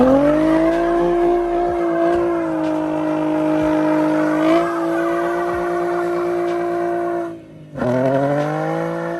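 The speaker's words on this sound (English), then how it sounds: "we're gonna test out and see if he could do a standstill burnout" A Nissan 350Z doing a standstill burnout in a parking lot: a loud, sustained high engine rev with a steady tire squeal, a brief dip near the end, then the revving surges again.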